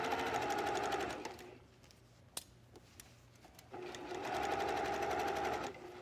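A sewing machine stitches bias tape trim around a dress in two fast whirring bursts, with a quiet pause and a few small clicks between them, heard close up with no talk.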